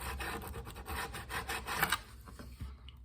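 Sandpaper rubs back and forth over the wooden dovetail joint of a guitar neck in soft, uneven strokes. The scratchy passes are close and fairly quiet, with no talk.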